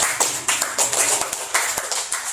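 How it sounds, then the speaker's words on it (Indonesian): Sharp, rhythmic hand claps in a quick steady pattern, close and fairly loud, like a small university group-counseling session clapping together with no talking. "Akan tepuk tangan buat diri"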